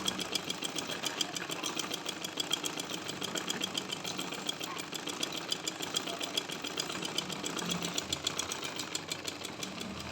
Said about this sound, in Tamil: ஹாஃப் இன்ச்சுக்கு மடித்து ஒரு தையல் போட போகிறோம் கடல் மிஷினில் தான் போடுறேன்